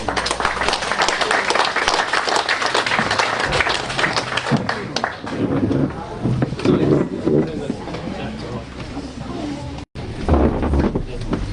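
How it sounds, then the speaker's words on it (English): An audience at a public meeting gives a sustained round of applause to speakers taking the stage, loud close clapping mixed with crowd murmur and some speech, with brief wind buffeting on the microphone. "give them a round of applause"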